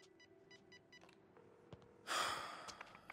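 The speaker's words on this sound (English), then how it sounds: "Tyler picks up a portable landline phone." A portable landline phone in the game As Dusk Falls gives a few short electronic beeps, then a clatter and a sharp burst of handling noise as it is picked up, close and fairly quiet overall.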